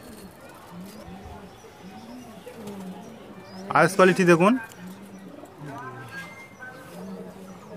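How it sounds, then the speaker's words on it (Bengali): Pigeons in a Giribaj and Madrasi pigeon loft coo in low, repeated rolling calls throughout, close by, while someone speaks briefly over them midway. "খুবই সুন্দর কবুতর দেখতে পাচ্ছেন"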